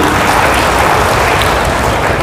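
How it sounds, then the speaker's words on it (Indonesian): An audience at a public talk on stunting by the head of Indonesia's BKKBN breaks into applause, dense, even clapping filling the whole moment at full strength with no speech over it. "Tepuk tangan untuk DIY."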